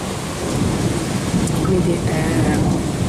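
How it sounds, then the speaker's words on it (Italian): A night thunderstorm over Sardinia brings heavy, steady rain hammering down with continuous low thunder rumbling throughout, loud and close, filling the whole stretch without pause. "sto filmando un temporale"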